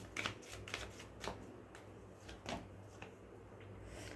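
Tarot cards are shuffled and drawn by hand in a quiet room, a few soft papery flicks and slides at irregular moments, faint and close.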